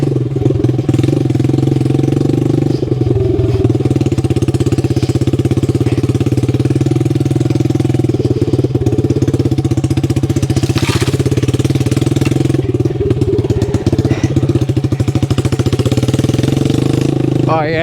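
Engine of a 1969 Honda CD90Z restomod motorcycle ridden carefully off-road through a forestry area in Tasmania, a steady, loud, buzzing drone that runs continuously with slight surges and rough chatter.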